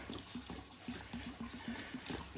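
Diesel fuel poured from an awkward container into the fuel tank of a low-cost tank, giving a steady close trickle and gurgle with small repeated glugs throughout.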